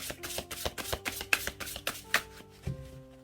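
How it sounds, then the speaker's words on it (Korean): Tarot and Lenormand cards are shuffled by hand in a series of quick, soft riffling slaps and taps with an uneven rhythm, close and fairly quiet over faint background music. "제가 한 번만 더 셔플할게요."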